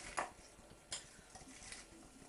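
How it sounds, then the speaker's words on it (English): A spoon stirs cranberries in a bowl for microwave cranberry sauce, giving two or three sharp, close clinks against the dish over faint background hiss. "to give those a stir, just to mix things in"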